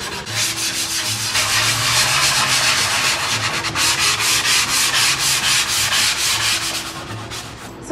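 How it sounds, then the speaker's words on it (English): Steady rhythmic scraping of a flat sanding block rubbed back and forth with even pressure over wooden furniture painted with Mango Paint, distressing the finish, close and continuous with no voices. "My sanding block fairly flat and give even pressure everywhere"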